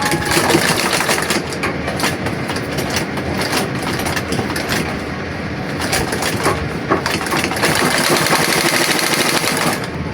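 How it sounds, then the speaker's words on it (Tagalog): A treadle sewing machine driving its needle through twelve thick layers of fabric, with a loud, close, continuous rattling clatter of rapid stitches that runs steadily with slight swells in intensity. "Pagdaan dito, sa may 12 patong, ito, ulitin natin. Tatahian natin ng makaisa."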